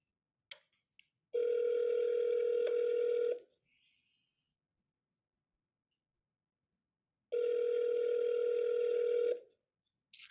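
Outgoing telephone ringback tone on a cold call, two long steady rings about two seconds each separated by a quiet gap, clear and close with a few faint clicks.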